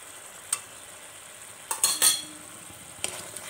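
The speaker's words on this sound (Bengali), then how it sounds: "দিয়ে ভালো করে মিক্স করে দেব।" Spices for a paneer rezala sizzle softly in a pan while a utensil stirs and mixes them, giving a few distinct scraping clinks against a quiet frying hiss.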